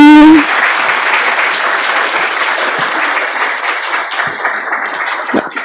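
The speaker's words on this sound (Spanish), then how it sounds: "démosle un aplauso" An audience at a metallurgy and materials conference inauguration breaks into loud, sustained applause that carries steadily to the end without fading.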